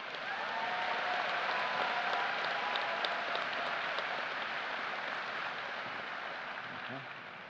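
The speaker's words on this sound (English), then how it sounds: "Let's give them one more round of applause together." A large audience at a high school graduation ceremony applauds graduating students, producing a dense, steady roar of clapping that holds for several seconds before tapering slightly at the end.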